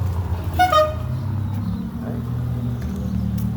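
A car horn gives one short toot over the low rumble of a running engine, then the engine noise carries on alone.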